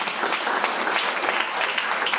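Applause from a congregation at a Christmas church gathering, steady and dense clapping throughout, fairly near and loud with no pauses.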